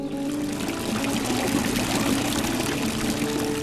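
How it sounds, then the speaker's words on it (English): A dolphin-themed garden fountain in a home garden pours water in a steady, continuous splash and trickle, close and even throughout, with no voices. "to the calming effects of the dolphin-themed fountain"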